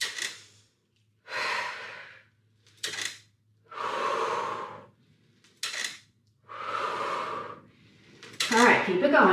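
Heavy, effortful breaths during a resistance band workout, several long loud exhales and inhales spaced a second or two apart, close to the mic, with a brief clatter near the end.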